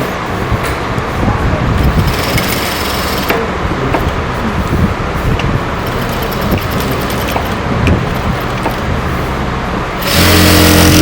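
A sewing machine stitching fabric runs in rapid, buzzing bursts that start and stop, under a voice speaking in a class setting. A louder, harsher noise takes over near the end.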